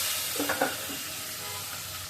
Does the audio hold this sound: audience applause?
no